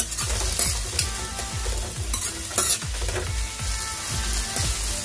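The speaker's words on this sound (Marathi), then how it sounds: "आता आपण याला मस्त फ्राय करून घेऊया." Chopped onions and spring onion sizzling loudly in a hot pan, with a continuous crackling fry and rhythmic stirring scrapes, close up and with no voices.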